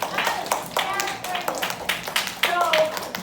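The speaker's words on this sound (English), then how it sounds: "yes, round of applause" Classroom round of applause from a group of students, a burst of scattered clapping with sharp hand taps that runs throughout, fairly close, with faint children's voices mixed in.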